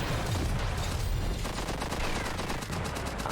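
Rapid bursts of gunfire from a shotgun in the video game One Step From Eden, a dense, continuous barrage of loud shots layered with busy game effects and no talking.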